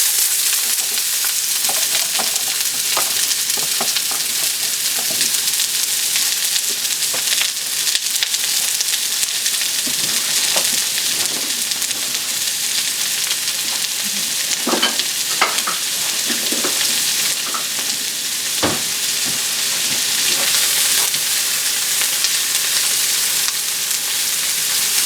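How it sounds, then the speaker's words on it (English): Onions fry in oil in a pan with a loud, steady sizzle throughout, and occasional scrapes and knocks from stirring come through close by. "I want to get these a little translucent. Get a head start on the onions to get them soft."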